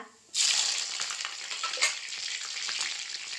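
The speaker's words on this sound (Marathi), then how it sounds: "तूप मी तापत टाकलेलं आहे त्यामुळे आधी पटकन होण्यासाठी आता तूप तापलंय की नाही बघायला. हे जिरं घालूया, मिरची घालूया" Cumin seeds and green chillies dropped into hot ghee for a potato dish, a sudden loud burst of sizzling that settles into steady close crackling frying, no talking.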